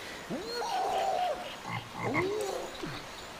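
A frog croaks in the Disney Princess and the Frog video game, giving a few rising and falling croaks in two bursts, clear and close over soft ambient game sound.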